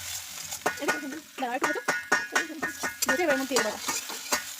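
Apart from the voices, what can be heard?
egg frying in a pan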